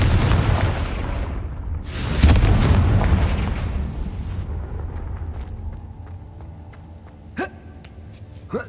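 In the video game Hogwarts Legacy, a Confringo spell sets off a loud, booming explosion that swells into a second heavy blast and rumbles away, followed by a couple of short sharp spell impacts.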